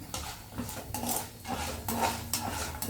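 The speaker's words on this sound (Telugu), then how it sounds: "కొంచెం మినపప్పు అలాగే కొన్ని ఆవాలు ఇవన్నీ వేసుకుని బాగా ఫ్రై చేసుకుందాం" Urad dal, mustard seeds and cashews frying in a pan, heard as steady clatter of a spoon against metal with faint underlying sizzle, close and continuous for a few seconds.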